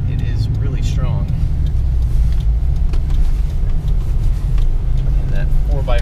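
A 1988 Toyota 4Runner 4x4 with a 3VZE V6 drives through snow, its engine and drivetrain giving a steady low rumble from inside the cab while someone talks over it.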